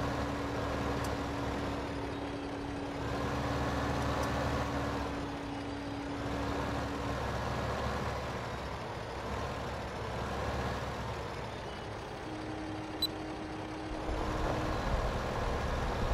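A tractor in Farming Simulator 15 pulls a plow with a steady, low engine drone whose pitch shifts slightly, running continuously with no talking.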